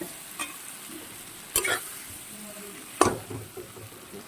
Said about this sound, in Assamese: অলপ সময় ভাজি লওঁ